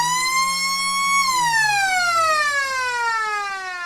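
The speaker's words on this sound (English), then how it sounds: "As the siren sounds to end the arm wrestle" An electronic siren at a country football ground sounds loud and steady at the end of the quarter, then drops smoothly in pitch as it winds down.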